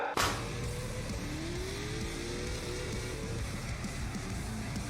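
An Ultra 4 truck drifting, its engine revving steadily at a distance with a sharp burst at the start and a faint tire squeal, loud and continuous without talk.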